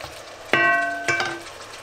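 Two sharp clatters of turkey leg meat dropping into a hot pan, each followed by a steady searing sizzle that lingers, close and fairly loud.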